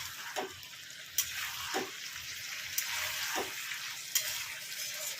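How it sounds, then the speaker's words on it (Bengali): Pumpkin and potatoes cook uncovered over high heat while their liquid boils off, a loud, continuous frying hiss with a stirring scrape every second or so. "এইভাবেই একটু জোরে আঁচ দিয়ে জলটাকে শুকিয়ে দেবো"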